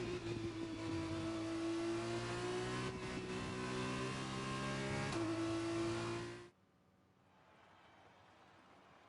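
A Formula 2 race car in the F1 2021 video game screams past at full throttle with its rear wing open during qualifying at the French round, a loud steady engine whine that cuts off abruptly, leaving faint background hum.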